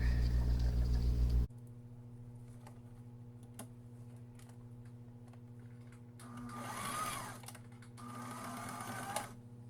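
A sewing machine runs zigzag and back stitches on fabric, a soft steady mechanical whir with faint ticking, briefly louder near the middle before settling back.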